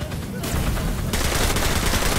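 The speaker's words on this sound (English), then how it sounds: "who the fuck is shooting at me?" Rapid video-game gunfire from a multiplayer shooter, a dense continuous burst of shots that grows louder and fuller partway through, close and harsh, with a voice faintly underneath.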